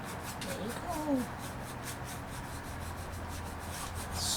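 Brush scrubbing paint, yellow and white blended together, onto a window pane: a steady close rubbing rasp with repeated short strokes, while a voice talks over it.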